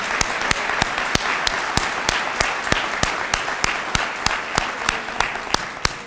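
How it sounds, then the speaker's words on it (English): A crowd applauds students about to receive their white coats at a university ceremony, with dense, even clapping and a regular pattern of louder single claps cutting through close to the microphone. "Can we have a round of applause for all these pioneers who are about to get their white coat?"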